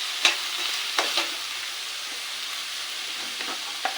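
Onions and green chillies fry in a pan with a soft, steady sizzle, while a spoon scrapes and stirs in a few sharp, brief strokes.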